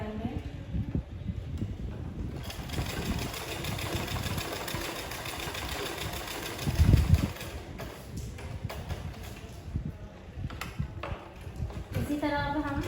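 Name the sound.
sewing machine stitching a suit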